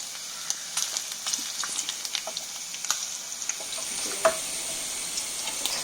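Fish frying in a pan at a Kerala home cooking spot, a soft, steady sizzle with sparse faint crackles and one sharper pop near the end, no talking.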